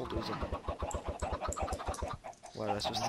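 Chickens in the Minecraft video game cluck in quick repeated bursts, fairly loud and busy, with game sounds layered throughout and a louder squawk near the end.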